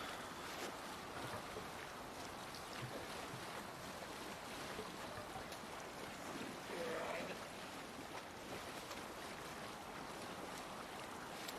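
A sailing boat with its sail hoisted, out at sea in the video game Assassin's Creed Valhalla. There is a steady, faint wash of wind and water with a soft, continuous rushing texture throughout.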